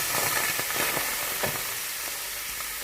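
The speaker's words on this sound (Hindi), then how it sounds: "अब हमारे ये मैरिनेटेड किया हुआ चिकन जो है वो हम बहुत ही आराम से इस कढ़ाई में डालेंगे" Marinated chicken for Lahori chargha sizzles in a hot kadai, a loud steady frying hiss with bursts of crackling and stirring throughout.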